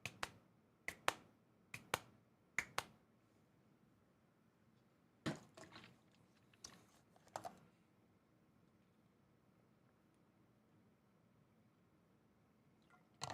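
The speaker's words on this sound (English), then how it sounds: "You gotta like twist and clap at the same time" Cupped hands clapping with a twisting motion, a series of sharp hollow pops in loose irregular clusters with quiet gaps between, close by in a quiet room.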